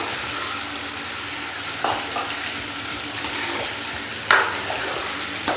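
Chicken sizzles in hot spices for a Delhi-style korma, a dense, even frying hiss close at hand, with a few sharper spits and clatters from the pan.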